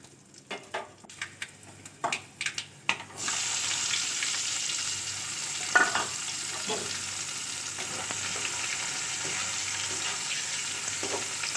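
Cinnamon, cumin and mustard seeds drop into hot oil, with a few sharp taps first, then a loud steady sizzle and scattered pops and crackles as the spices fry up close.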